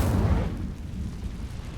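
A fiery Incendio spell burst in Hogwarts Legacy, a loud deep whoosh-boom that hits at once and then fades into a rumbling roar, close and alone.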